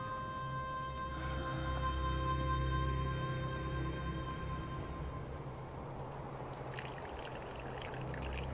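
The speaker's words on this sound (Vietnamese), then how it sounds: "rượu đổ rồi, cô đi rót lại một bình khác cho ta" Wine spilling from a jug, a steady pouring trickle with a faint ringing tone early on, soft and continuous over a low background hum, without speech.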